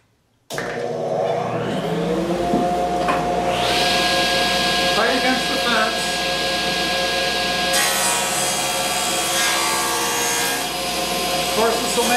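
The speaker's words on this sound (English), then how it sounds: "So dust collection on." A dust collector runs steadily and loud in a woodshop while a knotty pine board is shaved, a constant droning whoosh with tonal hum and rubbing, scraping wood noise on top.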